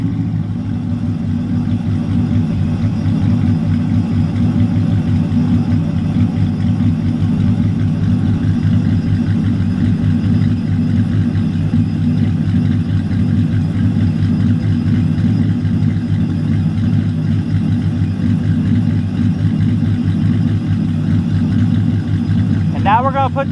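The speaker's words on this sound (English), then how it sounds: "There's the ghost cam or the lope tune or whatever you want to call it." Hemi 5.7 V8 truck engine idling with a lopey ghost cam tune on the stock camshaft, a steady, close, loud low rumble with an uneven loping pulse, continuous for the whole stretch.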